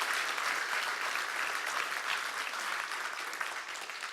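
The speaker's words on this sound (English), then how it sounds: "how about one last round of applause for all 10 companies" An audience at a health startup demo day closing in Philadelphia gives a steady, even round of applause, moderately distant and unbroken, with no speech over it.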